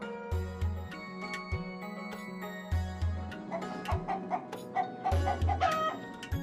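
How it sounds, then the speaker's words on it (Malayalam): Several black Kadaknath-type chickens (karinkozhi) cluck repeatedly at close range on an integrated farm, with short clucks and a few higher calls overlapping, over a low background hum. "ഇപ്പോൾ കരിങ്കോഴി എന്ന ഇനത്തിനെയാണ് വളർത്തുന്നത്."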